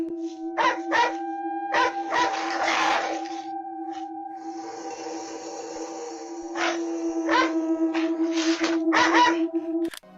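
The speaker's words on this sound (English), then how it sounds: "a brave dog barks fiercely" A dog barks fiercely at a flock of sheep in a shed doorway: a series of sharp, loud barks in quick bursts over a steady droning hum.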